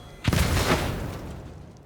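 An explosion in Warhammer 40,000: Rogue Trader, a single muffled boom with a rumbling tail that fades out over about a second and a half.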